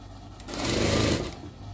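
A sewing machine stitches a small dog dress, a short close burst of rapid mechanical whirring that swells and then fades to a quieter hum.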